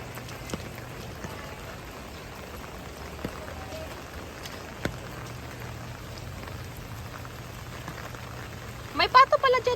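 Rain falls steadily on a surface, a soft continuous patter with a few louder drips, and a brief burst of another noise right at the end.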